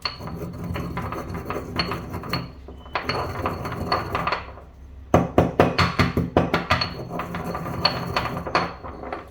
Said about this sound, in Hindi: ये बीज जो हैं इनको हम अच्छे से पीस लेते हैं